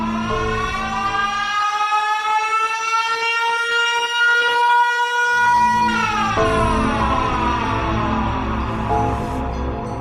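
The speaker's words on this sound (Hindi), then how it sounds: "और तभी सायरन हेड जोरदार आवाज निकालकर गुल्ली बुल्ली और शॉन के नाक में दम कर देता है।" Siren Head, the creature in a horror video game, lets out a loud, continuous wailing siren call that rises and bends in pitch for about ten seconds.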